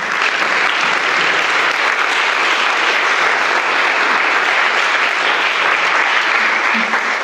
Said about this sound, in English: So maybe a round of applause for the Alba team for all the hard work.